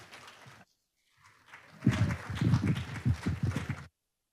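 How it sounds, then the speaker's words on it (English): An audience at an evening Chautauqua talk on Charlie Chaplin breaks into a round of applause, a dense clatter of many hands that starts after a short quiet stretch and holds steady for about two seconds before stopping abruptly. "Let's have a big round of applause for Larry Bounds."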